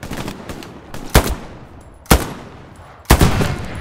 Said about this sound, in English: I'm getting shot at though.